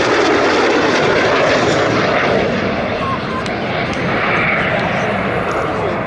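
An F-86 Sabre jet roars past at an air show, a loud continuous broadband rush of engine noise that swells and fades slightly, with an announcer talking over it.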